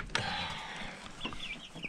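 Chickens on a homestead cluck softly close by over a steady background hum, with a few short squawks toward the end.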